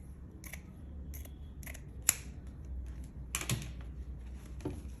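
Scissors cut fabric for a bubu gown in a few sharp, separate snips spread over a few seconds, close and quiet against a faint background.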